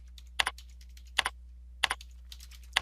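Keys clatter on a computer keyboard in a few quick bursts of typing, close and crisp, with short pauses in between over a quiet low hum.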